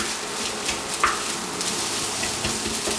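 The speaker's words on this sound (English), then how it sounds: "now we can keep on stir frying our rice and all the other ingredients together" Steady sizzling of rice stir-frying in a hot pan, with occasional scraping and stirring sounds and a faint buzz underneath, no voices.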